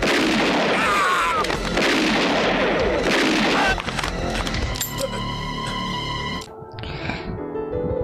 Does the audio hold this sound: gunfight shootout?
yes